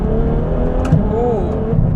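Ferrari F12 with its front-mounted naturally aspirated V12 and Armytrix exhaust, heard from the cabin under talk as a steady engine drone with a quick rising-and-falling rev swell midway.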